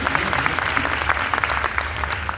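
A university audience at Lucknow University claps throughout a poetry recital, dense and steady applause from many hands in a large hall, with no speech over it.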